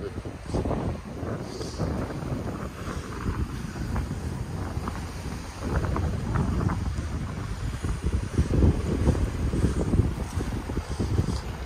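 Wind blows on the beach at Jaws Beach, Nassau, in the Bahamas, rumbling steadily and buffeting the microphone with low gusts. It is continuous and near, with no talk over it.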